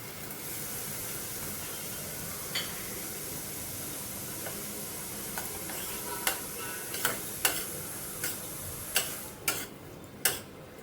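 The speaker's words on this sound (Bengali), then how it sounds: "রসুন কাঁচা লঙ্কাটা একটু ভাজা ভাজা হয়ে যাওয়ার পরে আমি এখানে একটা টমেটো মিক্সিতে পেস্ট করে রেখেছিলাম, সেটা দিয়ে দিলাম" Garlic, green chilli and tomato paste sizzling in a pan, a quiet steady hiss punctuated by sharp spattering pops that grow more frequent toward the end.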